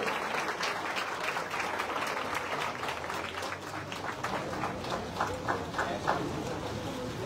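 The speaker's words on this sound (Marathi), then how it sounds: "टाळ्या वाजवून आपण त्यांचं स्वागत करायचं आहे." A crowd claps steadily for several seconds at a prize-giving ceremony, a dense patter of applause at moderate distance, fading a little toward the end.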